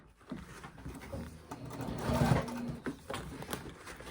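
A sewing machine stitching the lining of a crossbody bag, a close, moderate mechanical whir and chatter that swells in the middle and then eases, with light handling clicks and no speech.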